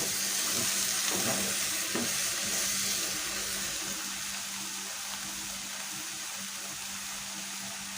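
Sausages and tomatoes sizzling and frying in a pan while being stirred, a loud, continuous close crackle with occasional scraping and a steady low hum beneath.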